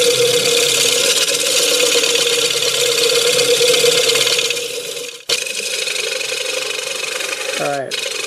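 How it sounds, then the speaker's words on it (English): A negative rake scraper rubs continuously against English walnut spinning on a wood lathe, giving a loud, steady rasping hiss over the motor hum. It stops abruptly partway through, then resumes, and a voice talks briefly near the end. "go over it with the negative rake scraper and see if we can get it smooth enough to sand"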